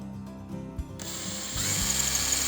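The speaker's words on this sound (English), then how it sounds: "we're going to drill a little starter hole." A power drill whirs briefly, stopping once, then runs again with a steady grinding hum as it bores a starter hole into a wooden wall stud, close by.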